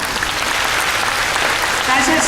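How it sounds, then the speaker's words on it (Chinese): A church congregation at a hymn-sharing service claps together in a dense, continuous burst of applause that holds steady and swells slightly toward the end. "为自己掌声鼓励一下"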